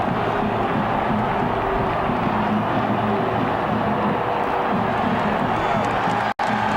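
A large football crowd at Alltel Stadium roars and cheers steadily as Notre Dame's team arrives for the Gator Bowl against NC State, a dense continuous wash of distant voices and applause with wind noise, cutting out briefly near the end.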